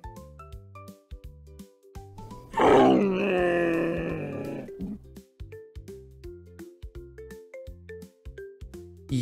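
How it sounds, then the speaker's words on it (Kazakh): A camel lets out one long, loud groaning moan of about two seconds in a children's cartoon about animals, rising above a light, bouncy melody that plays before and after. "түйе"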